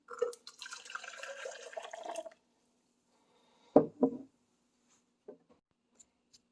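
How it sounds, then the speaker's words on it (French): Hot water poured into a clear glass jar, a short splashing pour for about two seconds followed by a few separate clinks and drips, close and quiet with no talk. "Troisième étape, tu ajouteras l'eau chaude."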